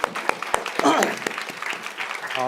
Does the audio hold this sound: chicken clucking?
no